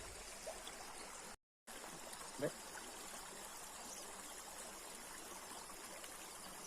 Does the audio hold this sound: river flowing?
yes